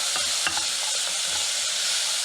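Garlic hits a pan of vegetables for a chicken and vegetable stew and fries in a loud, continuous sizzle, with a few scraping stirs up close.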